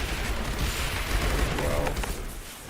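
Mortar tower firing in the Rogue Tower game, low booming thuds over a steady rumble of battle noise, with a brief voice heard under the blasts.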